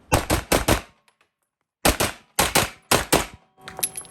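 Glock 17L pistol with a super light Timney trigger firing Winchester ammunition: loud, sharp shots in quick pairs and triplets, a short pause, then more rapid bursts of close, cracking reports.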